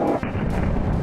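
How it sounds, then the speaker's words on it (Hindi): Loud, booming blasts in quick succession from a potash firecracker gun, deep and rumbling, with sharp onsets close by. "potash gun"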